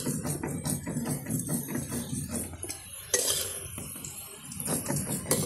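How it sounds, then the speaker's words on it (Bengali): Fried potatoes lifted from a pan over an outdoor picnic cooking fire, spoon scraping and clinking against the metal pan with faint sizzling, close and fairly quiet, no talking. "আলু ভাজা কমপ্লিট, তুলে নিচ্ছে।"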